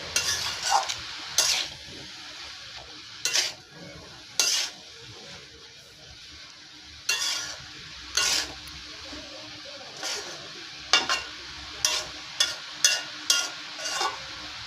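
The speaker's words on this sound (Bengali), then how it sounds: "এই সবগুলো উপকরণ দিয়ে বেশ ভালোভাবে নেড়ে চেড়ে নেব" Bottle gourd being stirred with spices in a pan, with a spoon scraping and clattering against the metal in repeated sharp bursts over a faint sizzle, close and fairly loud with no voices.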